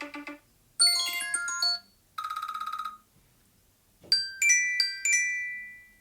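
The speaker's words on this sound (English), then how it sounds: "We got the perfect ringtone." Phone ringtone tested in bursts: bright electronic chimes and tinkling melodic tones, one rapid trilling ring, separated by short silences, clear and close.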